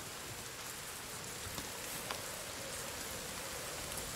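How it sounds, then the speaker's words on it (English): Rain in the video game The Forest, a steady, soft hiss of falling drops that continues evenly throughout with no talking. "Whoa! Starting to rain,"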